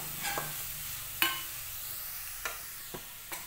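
Ingredients sautéing in a pan while a samosa filling is cooked, a faint steady sizzle with a few soft scraping stirs of a spoon at irregular intervals.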